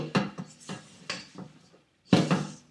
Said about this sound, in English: I'm going to finish by mixing this by hand